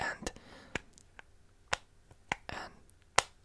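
Sharp, close taps and claps on a small wooden toy house, irregular single knocks spaced apart with quiet gaps and soft whispery texture between them.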